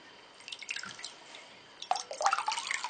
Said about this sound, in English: So I have this cloth and a bowl of warm water. I'm going to go ahead and dip my cloth